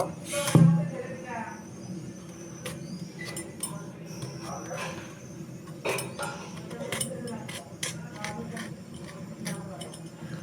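A knife cutting and peeling a fruit, with scattered clinks and scrapes of blade and utensils on a plate or board while someone talks throughout.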